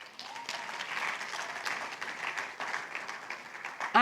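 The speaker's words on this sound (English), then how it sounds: "I think that deserves a clap." Audience clapping during a developer conference talk in Lagos, a steady wash of applause from a crowd lasting several seconds, with no speech over it.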